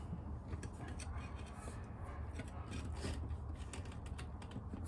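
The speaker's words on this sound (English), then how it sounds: "finish getting the bolt off. Luckily it's coming all the way off," Mechanical clicking and ratcheting close by as a bolt is worked off a car's strut bearing during maintenance, continuous metallic ticking over a steady low background hum.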